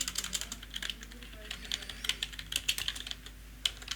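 Typing on a computer keyboard while entering a caption into a Microsoft Access form, a quick, irregular run of close, light key clicks with a faint background hum.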